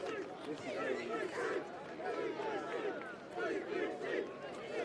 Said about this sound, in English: As we hear the chant of TBC going up around the crowd.